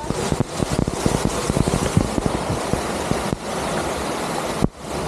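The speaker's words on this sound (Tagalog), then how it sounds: "Sundan nyo lang tunog ng tubig. Yan yung Mira's Falls." Mirror Falls, a waterfall on a Hong Kong hiking trail, gives off a steady rushing roar of falling water, with occasional close clicks and wind buffets on the microphone.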